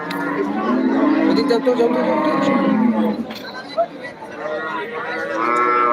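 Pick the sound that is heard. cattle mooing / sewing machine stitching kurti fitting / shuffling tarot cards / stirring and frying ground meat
cattle mooing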